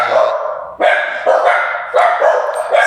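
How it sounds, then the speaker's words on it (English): Two pet corgis bark in several sharp, loud bursts close by, each volley of yips running into the next with only brief gaps. "So what you're hearing is his corgis."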